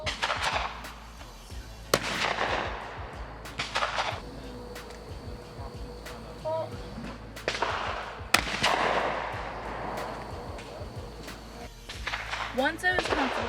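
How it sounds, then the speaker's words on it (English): Gunshots from a gun at an outdoor youth shooting range during a waterfowl hunt event, about five loud sharp reports spaced a few seconds apart, each trailing into a short echo, with talk in the background between shots. "they let me shoot a few more times, and then I joined the other kids on the range."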